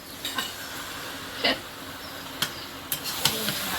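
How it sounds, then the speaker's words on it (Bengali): Spice masala is sautéed in a pan for a rooster curry, with a low, steady sizzle and a few scattered scrapes and taps of a spoon against the metal. "এবার মশলাটা ভালো করে মিশিয়ে সুন্দর করে কষিয়ে নিতে হবে"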